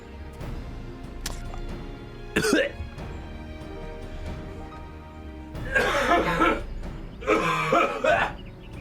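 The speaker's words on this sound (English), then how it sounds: "I inhaled a bit of spit and I had to cough it out" A man coughs in a few sharp, loud bursts after inhaling a bit of spit, the fits clustered near the end over a quiet game soundtrack from Final Fantasy XIV Dawntrail.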